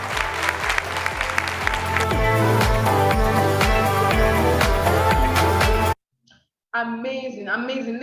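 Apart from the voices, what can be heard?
audience round of applause at corporate event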